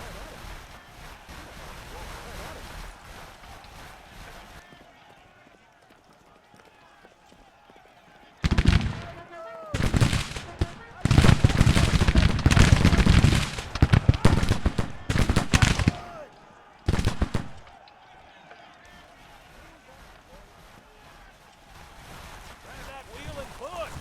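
Gunfire in a Civil War game, dense bursts of musket shots crackling loudly in several clusters midway, with wind-like ambience before and after and a voice talking.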